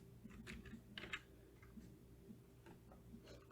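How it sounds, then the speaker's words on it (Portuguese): A few light clicks of a computer keyboard key being pressed during design work in Corel, soft and close, scattered across a quiet room-tone background. "Aperto o P do meu teclado para centralizar"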